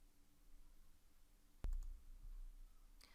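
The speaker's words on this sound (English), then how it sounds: "Click on Share." A single sharp computer mouse click on a share button in a client portal, close and crisp over quiet room tone, followed by a faint second click near the end.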